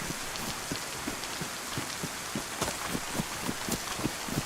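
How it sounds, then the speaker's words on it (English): Rain in the video game DayZ, a steady, dense patter of raindrops with a continuous hiss and a regular pulse of soft low thumps underneath. "I've got my headset down because of the rain."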